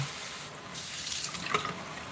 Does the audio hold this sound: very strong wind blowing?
no